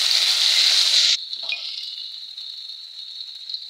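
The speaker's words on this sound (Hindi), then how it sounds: "अब मैं लहसुन का पेस्ट जो बचा हुआ था वो मैं डाल रही हूँ और इसे भी मैं अच्छी तरह से" Garlic paste hitting hot oil with browned onions, starting as a loud, broad hiss that drops off abruptly after about a second into a steadier, quieter sizzle that carries on alone.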